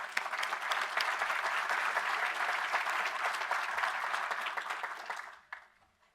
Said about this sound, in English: So a round of applause to everyone for